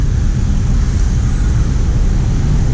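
Loud, dense rumble of a vehicle engine straining at high rpm, continuous and close, dominated by heavy low-end roar without voices.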